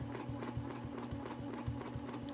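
A sewing machine stitches a holiday quilt, with a steady motor hum and a regular thumping pulse of the needle at roughly three beats per second, close and fairly quiet, with no voices.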